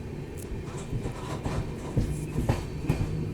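The 12090 Jan Shatabdi Express from Shivamogga to Bengaluru runs along the track, a continuous low rumble with rhythmic clickety-clack thumps from the wheels, heard from on board with no talking.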